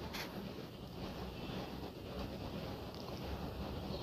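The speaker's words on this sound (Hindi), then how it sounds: "देखिए पानी में उबाल आने लगा" Water comes to a boil in a cooking pot while making gatte ki sabzi, a dense, continuous bubbling and rushing hiss heard close up and steady throughout, with no talking.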